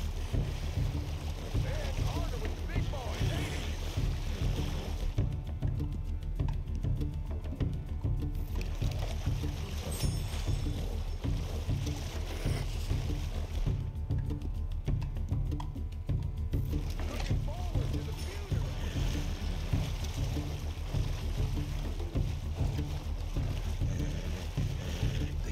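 A horse swimming through water in Red Dead Redemption 2, with steady sloshing and splashing throughout, loud and close, while someone talks over it at times.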